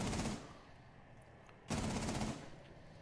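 Two short, loud bursts of rapid automatic gunfire in Rainbow Six Siege, separated by a brief quieter gap, close and harsh.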